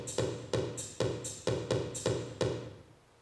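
A simple drum machine loop pairs a thumping bass drum with a crisp hi-hat, hitting in a steady, evenly spaced pattern of about six beats before the sound dies away.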